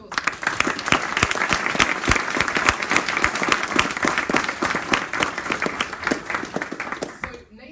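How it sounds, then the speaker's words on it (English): An audience breaks into a round of applause, many hands clapping densely and steadily for several seconds before it thins out and stops near the end. "Can we just give a round of applause?"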